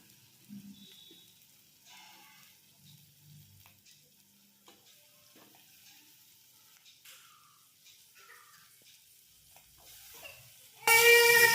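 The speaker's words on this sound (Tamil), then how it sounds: "இதை சேர்த்து நல்லா வதக்கி விட்டுருவோம்." Brinjal and turkey berries drop into a hot pan and burst into a loud, close sizzle at the very end, after a long, quiet stretch of faint kitchen sounds.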